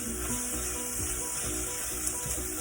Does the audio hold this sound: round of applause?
no